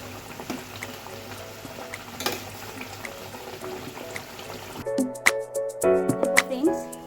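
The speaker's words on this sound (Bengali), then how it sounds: "এখানে কিন্তু ঝোলটা ফুটে গেছে" Pomfret fish curry broth boiling in a pot, a steady close bubbling and simmering hiss, followed by louder liquid splashes and stirring.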